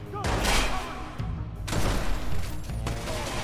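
Gunfire from the Watch Dogs video game, with bursts of shots and impacts arriving in a few clusters, loud and close in a busy mix without clear speech.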